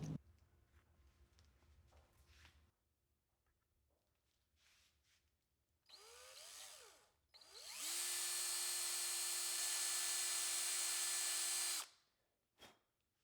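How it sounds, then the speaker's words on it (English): Power drill boring screw holes for guitar parts, with quiet handling and clicks, then a short whining burst followed by a long, loud, steady drill whir that stops abruptly. "I'll use this straight edge to drill all the holes in."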